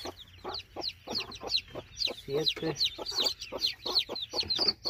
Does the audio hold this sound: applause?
no